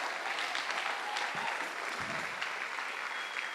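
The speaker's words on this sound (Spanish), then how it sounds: "dele un aplauso al Señor" A church congregation claps steadily and enthusiastically for several seconds, a dense, even wash of applause with no pauses.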